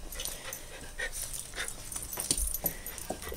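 A small pet dog whimpers and pants close by at a home during feeding time, with faint jingling and scattered yips over steady background noise, and no talk.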